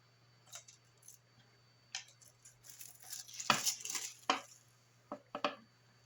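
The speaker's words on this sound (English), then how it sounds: "And cut out our pendant." Polymer clay being cut out into a pendant shape with a craft cutter: a handful of short clicks and soft scraping taps, clustered around the middle, close and fairly quiet over a low steady hum.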